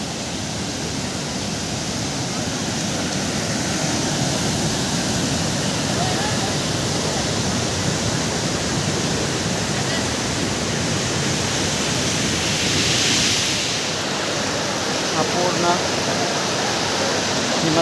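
Kalu waterfall on a trek route roars as a steady, dense rush of falling water, constant and fairly loud throughout nearly eighteen seconds.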